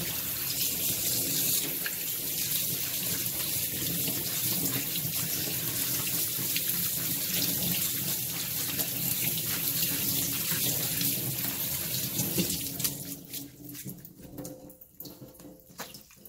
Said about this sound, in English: so now we're going to strain it and rinse it.